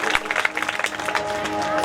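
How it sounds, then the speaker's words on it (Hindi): Audience clapping at a Hindu religious discourse gathering in Aliganj, a dense continuous patter of hands lasting throughout, fairly loud and steady. "एक बार जोरदार ताली बजा के सम्मान"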